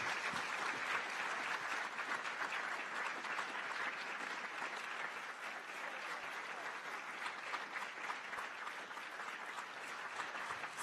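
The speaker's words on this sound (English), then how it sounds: "let's give a big round of applause to our amazing member of Congress" A town hall meeting audience applauds for their member of Congress, giving a steady, even wash of clapping from a crowd that holds at a constant moderate level throughout, with no talk over it.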